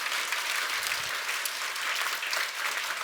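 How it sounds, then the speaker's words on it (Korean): A congregation at a Korean church healing service applauds in steady, dense clapping throughout, with no voices heard. "우리 하나님께 감사와 영광의 박수 올려드리기를 원합니다"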